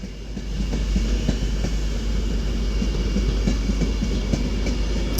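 A Class 390 train pulls out of Crewe station bound for London Euston from Liverpool Lime Street. It gives a steady, nearby rolling rumble with repeated clickety-clack wheel beats over the rail joints.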